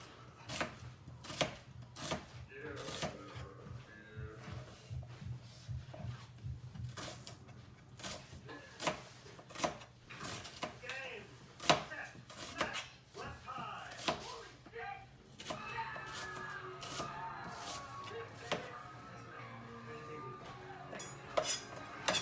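A knife slices down through greens on a cutting board in a home kitchen, a series of crisp, irregular chops close by, with quieter stretches and a few clattering pan sounds in between.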